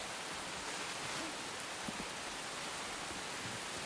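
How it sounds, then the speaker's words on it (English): Steady rain falls, a dense, even hiss of drops spread across the whole stretch, with no voices and no distinct individual impacts. "With rain like this, and then like rolling thunderstorm."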